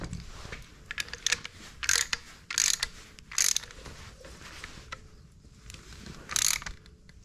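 Plugs being tightened into the two new outlets of a replacement water pump on a Ford 1720 tractor, heard as several separate bursts of ratcheting clicks spread over a few seconds, close and fairly loud.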